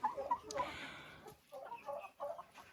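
Chickens in a coop after heavy rain, giving short bursts of clucking and squawking, fairly close but not loud, with brief pauses between calls.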